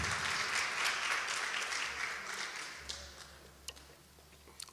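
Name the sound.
church congregation applause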